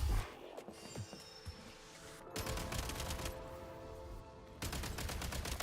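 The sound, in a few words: firearm gunfire from Genshin Impact video game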